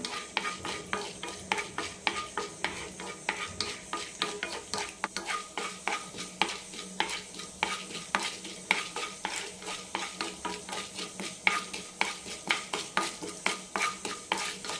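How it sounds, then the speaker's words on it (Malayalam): Urad dal frying in coconut oil in a pan, heard as a steady soft sizzle under a busy, rhythmic scraping of a spoon stirring against the pan, fairly close and without speech. "പാനിലേക്ക് രണ്ട് ടീസ്പൂൺ വെളിച്ചെണ്ണ ഒഴിച്ചിട്ടുണ്ട് ഇതിലേക്ക് ഒരു ടേബിൾ സ്പൂൺ ഉഴുന്നിടാം ഉഴുന്ന് ചെറുതായി ഒന്ന് ചോന്ന് കിട്ടണം"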